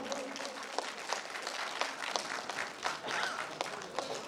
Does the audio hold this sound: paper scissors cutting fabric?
no